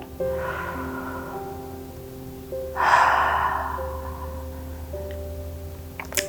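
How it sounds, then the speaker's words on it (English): A breath in and out during a kids' yoga session, one soft airy exhale mid-clip over a steady sustained musical tone background, fairly quiet and close. "Breathe in and out."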